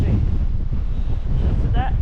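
Very strong wind buffets the microphone near Yoros Castle in Istanbul, a loud, constant roaring rumble, with a brief voice breaking through near the end.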